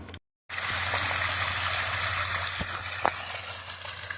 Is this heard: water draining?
yes